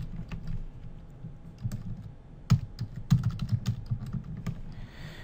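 Computer keyboard typing a new password, a run of close, crisp key clicks with a few louder taps and uneven rhythm, heard alone.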